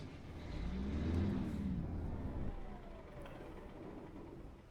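An International 9900 truck with an 18-speed transmission driving in the video game American Truck Simulator, a steady engine drone that rises in pitch as it revs, then settles into a continuous hum.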